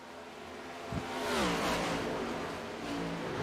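A race car, the number 12, circles the Kansas racetrack at about 90 miles an hour, its engine rising to a loud revving pass that swells and then holds as a steady drone.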